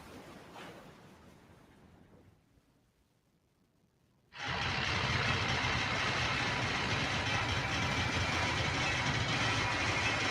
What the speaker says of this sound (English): Yeah, that engine is tired.